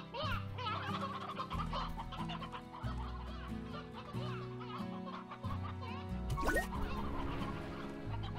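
Chickens in the Slime Rancher video game, repeated soft clucks and chirps scattered over a looping electronic game soundtrack.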